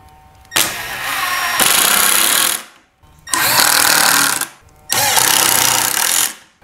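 Power driver running screws into cabinet boards, three loud whirring bursts of about a second or two each, with the motor pitch shifting as each screw seats, close by.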